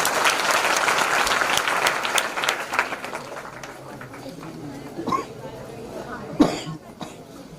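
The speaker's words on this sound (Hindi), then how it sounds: "एक बार जोरदार तालियां इनके लिए।" Audience clapping at a devotional Bhagavat discourse, a loud burst that fades over the first few seconds, followed by scattered coughs, throat clearing and low murmuring from the crowd.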